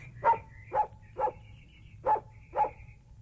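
A small dog named Snuff yaps five times in a quick, evenly spaced series, sharp close barks over a low background hum.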